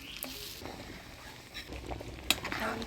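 Masoor-style kalai dal with fried fish head simmering in a pot in a Bengali village kitchen, a soft bubbling sizzle with a few scraping stirs and metal clinks of the spoon, fairly close and quiet, no voices.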